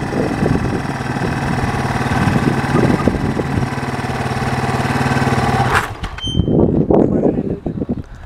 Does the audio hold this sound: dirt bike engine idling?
yes